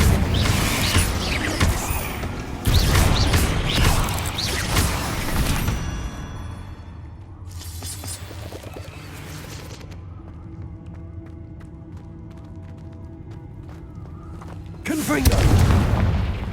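Confringo spell blasts in Hogwarts Legacy combat, heavy booming explosions bursting in loud clusters, then a quieter stretch with faint mechanical rumble before another big blast at the end.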